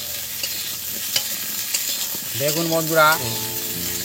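Potatoes fry with spices in a pan, a continuous sizzle with stirring scrapes close by, while someone speaks over it toward the end.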